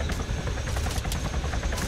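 Helicopter in a military video game, a loud close rotor thumping with a steady chopping pulse, with no talk over it.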